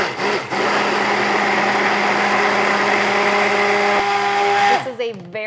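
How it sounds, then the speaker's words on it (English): A stick blender hums steadily at close range while mixing soap, a continuous buzzing whir that cuts off near the end as a voice begins speaking. "Now it's time to stick blend. So taking my stick blender, putting it all the way to the bottom"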